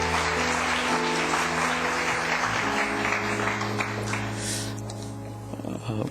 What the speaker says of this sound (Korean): 인사하고 들어갈 때 박수로 한 번 더 격려해 주길 바랍니다